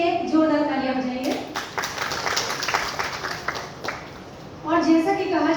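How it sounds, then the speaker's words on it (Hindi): An audience at a laughter therapy session in a theatre breaks into a short burst of hearty clapping between stretches of someone speaking, which resumes as the applause fades. "एक बार अपने लिए जोरदार तालियां बजाइए।"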